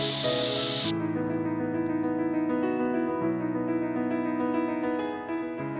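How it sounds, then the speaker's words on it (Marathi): A pressure cooker holding spiced rice with val beans lets out a loud burst of hissing steam that cuts off after a second into a sustained, wavering whistle, close and continuous. "झाकण लावून घेते दोन शिट्ट्या देते"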